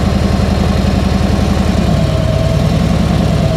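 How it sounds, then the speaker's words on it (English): A Harley-Davidson Tri Glide M8 motorcycle with a Rekluse clutch pulls away from a stop with a loud, steady, close throbbing engine rumble whose tone rises slightly near the end. "Then I'll give it some gas and take off again."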